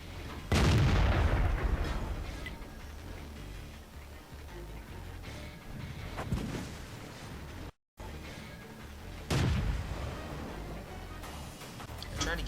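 Gunshots in a video game crack out as heavy booming blasts, two big reports separated by several seconds of quieter rumble and smaller pops, with a voice talking over parts of it.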